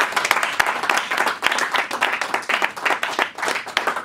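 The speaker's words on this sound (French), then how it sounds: "Acclamons très très fort le Seigneur." A church congregation claps and cheers loudly in praise, dense continuous applause with sharp individual claps and voices rising throughout.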